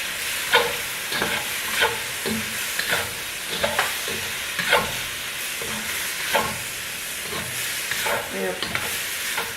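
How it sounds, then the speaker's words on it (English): Half a tablespoon of chopped garlic hits a hot frying pan and sizzles steadily, with repeated stirring scrapes breaking through the hiss about once a second. "I've cut up a half a tablespoon of garlic, which I'm going to add to the pan."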